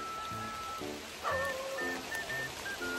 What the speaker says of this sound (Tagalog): nabutan na tayo talaga ng ulan guys